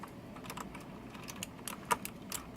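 Clicky Outemu blue mechanical switches on an AllEasy RGB LED gaming keyboard, typed in a quick irregular run of sharp close clicks with one louder keystroke near the end.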